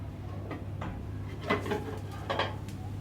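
Ceramic plate set down over a pan holding a potato cake, giving a couple of light clinks and knocks of crockery on metal, brief and close, with a steady background hum.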